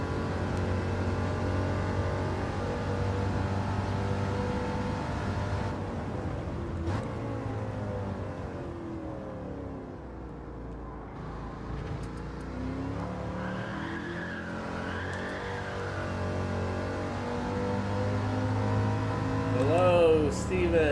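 A Chevrolet Chevelle race car in Gran Turismo 7 NASCAR racing, its engine holding a loud, steady drone that dips and climbs in pitch as it revs, with brief tire-skid noise and possible voices under it.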